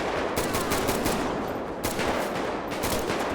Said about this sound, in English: they still are continuing to shoot a few more people